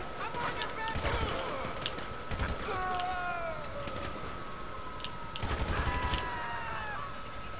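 Rapid gunfire in GTA 5, with bursts of shots clustered around the one-, two-and-a-half and five-and-a-half-second marks over a constant background hum of game action, with someone talking throughout.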